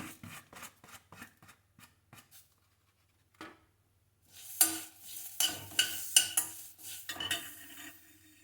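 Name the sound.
dry roasting pudina leaves and spices in a pan without oil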